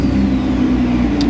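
Car engine held at high RPM, around 4,000 to 5,000, during a gauge cluster test: a loud, steady, strained mid-pitched drone with no break and no talking.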